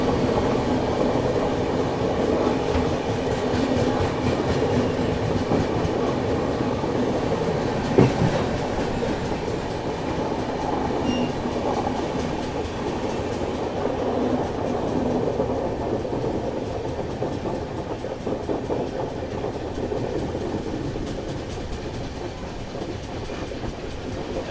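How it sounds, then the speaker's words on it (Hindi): A Telangana Express train on the New Delhi–Hyderabad route runs along the rails, giving a steady, close rumble with continuous wheel clatter for the whole stretch and no voices. "तेलंगाना एक्सप्रेस नई दिल्ली हैदराबाद।"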